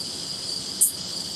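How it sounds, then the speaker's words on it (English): Crickets chirp in a steady, dense high-pitched drone that continues alone, broken by one brief sharp click partway through. "I think he's actually in a bath with crickets"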